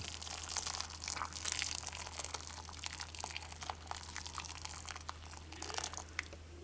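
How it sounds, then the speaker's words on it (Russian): Boiling water poured over cleaned, rinsed urechis spoon worms, a soft continuous splashing and crackling pour with faint drips, fairly quiet and close, no voices. "Вот урехис уже почищен от кишков, вымыт. И мы его заливаем кипяточком."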